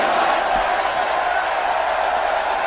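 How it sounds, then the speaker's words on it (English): A large arena crowd in WWE 2K19 roars in a dense, steady wash of voices, loud and continuous with no gaps. "The crowd chanting this is awesome."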